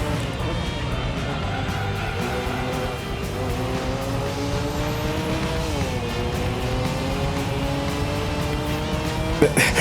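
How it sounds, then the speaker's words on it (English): A Honda NSX races in Gran Turismo 3, its engine holding a steady high drone that dips and climbs with gear changes, a brief tire squeal near the end, with someone talking over it. "Yes, John, this game treating the NSX like it's almost like it's practically like a supercar in terms of how quick it is."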